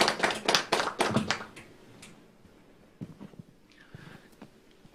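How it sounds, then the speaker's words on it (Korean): An audience at a national assembly academic policy forum claps to welcome the next speaker, a brief burst of scattered applause that fades quickly to a few isolated taps and soft room noise. "여러분 박수로 맞아주시기 바랍니다"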